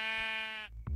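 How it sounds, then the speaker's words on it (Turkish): A single short sheep bleat from Minecraft, clean and close, followed by a brief low thump at the end. "şimdi ben burada bir mal olarak koyunun ses çıkartmasını bekleyeceğim"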